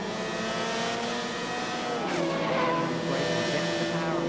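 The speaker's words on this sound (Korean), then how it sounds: "마침내 우리 타이어를 장착한 머신이 경기장을 누비기 시작했다." A Formula 3 race car on Kumho racing tyres speeds around a circuit, its high-revving engine whining loudly with pitch sweeps as it shifts and passes, steady and dominant throughout.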